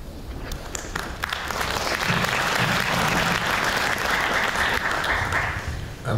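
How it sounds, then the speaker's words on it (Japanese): A hall audience applauds at the opening session of a Science Agora 2014 science conference, the clapping building from scattered hands into a full, sustained wave before easing slightly at the end. "スカイプじゃないんで今の拍手は伝わらなかったんで、いずれアングローバーさんにお伝えしたいと思います。"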